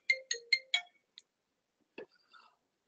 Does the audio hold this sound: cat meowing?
no